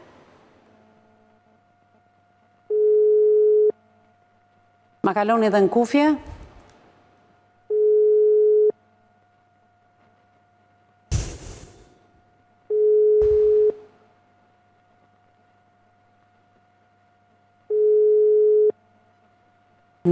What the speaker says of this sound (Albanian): Nuk pa hapa s'kush telefonin, shpresoj që zotria të përgjigjet.